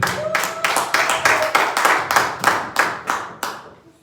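A church congregation claps together in a steady, rhythmic beat, about a dozen sharp, loud claps that slow slightly and fade out at the end.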